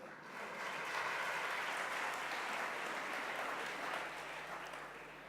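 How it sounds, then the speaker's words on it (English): Steady audience applause at the THiNK 2012 conference, a broad wash of many hands clapping that swells in after a quiet start, holds evenly and fades a little near the end, distant and fairly soft. "please, a round of applause for them"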